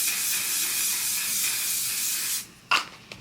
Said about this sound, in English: Setting it with my favorite One Size setting spray